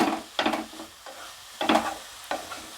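A thick pumpkin sweet is stirred in a pan in four rough scraping strokes, each a short sticky rasp of the spoon against the pan, with a soft sizzle underneath.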